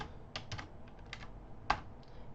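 Light, irregular keystrokes tapped on a computer keyboard, a short burst of separate clicks with one sharper press, heard close and fairly quiet over low room hiss, with no voice.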